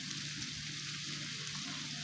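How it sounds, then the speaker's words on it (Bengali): Green chilies and onions fry in butter in a pan over a medium flame, giving a steady, close, even sizzle with no voices. "কাঁচামরিচ পেঁয়াজ দিয়ে দিলাম। এটাকে সুন্দর করে একটু ভেজে নিতে হবে।"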